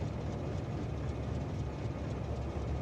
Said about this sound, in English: That same humming sound, is it from the train? I think it is the train.